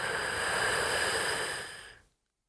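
A deep breath drawn in through the back of the throat, one long rasping inhale that holds steady, then tapers off into silence near the end.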